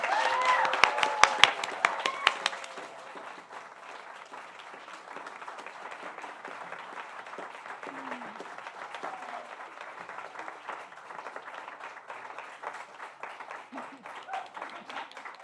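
Loud burst of clapping at a gala that quickly fades into a long, steady patter of applause from a crowd, continuing evenly to the end.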